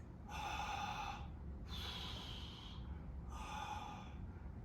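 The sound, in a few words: deep breath during a cool-down exercise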